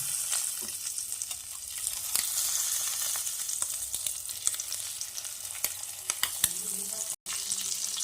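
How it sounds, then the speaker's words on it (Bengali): Duck eggs fry in hot oil for a Bengali egg curry with cauliflower, giving a steady, close sizzle with scattered pops and crackles throughout, plus a brief utensil clink near the end. "এভাবে ডিমগুলোকে দিয়ে এপাশ ওপাশ উল্টে পাল্টে ভেজে নিতে হবে"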